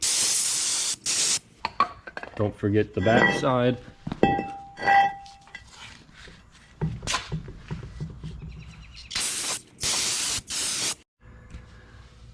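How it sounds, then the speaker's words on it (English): Brake cleaner sprayed onto a new front brake rotor of a 2014-2018 Jeep Cherokee Latitude, with several sharp hissing bursts separated by pauses, plus clanks and a person talking between sprays. "you're going to need some brake clean and spray them down"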